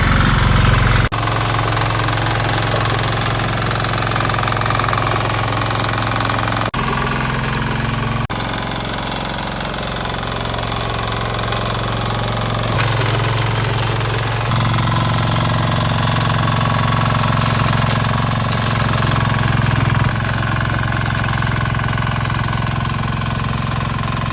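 A power weeder engine runs in a stony farm field, a loud, continuous knocking chug whose tone dips and shifts as the machine labours, with no talking over it.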